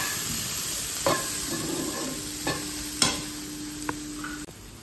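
Tomatoes being stirred in a pan with a quiet sizzle, a few distinct utensil scrapes and knocks standing out over a steady low frying hiss, with no voices.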